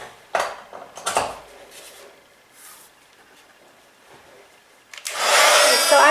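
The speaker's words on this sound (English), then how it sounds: "I'm going to heat set the little hard embossed piece" A heat gun is used to heat-set an embossed card piece. A few clatters and bumps of handling come first, then the gun roars on near the end as a loud, steady rushing blast.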